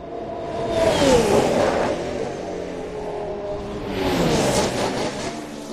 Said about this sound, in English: we get the Haas coming by again